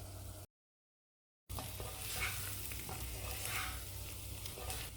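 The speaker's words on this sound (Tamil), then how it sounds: "காய் சேர்த்து ஒரு நிமிஷம் வதக்கிக்கிறேன்" Vegetables with chilli powder, coriander powder and turmeric sautéing and being stirred in a pan for a gravy, a steady close sizzle with scraping stirs after a brief silent gap at the start.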